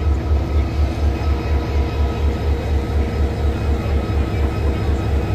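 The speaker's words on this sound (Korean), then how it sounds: "백두대간 협곡열차." Baekdudaegan V-train canyon train running between Cheoram and Buncheon stations in Korea, a steady loud rumble with rhythmic low wheel thumps and rail clatter continuing throughout, heard from aboard.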